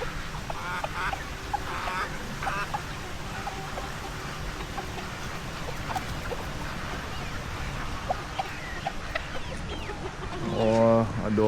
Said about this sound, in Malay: Oh, angsa ada.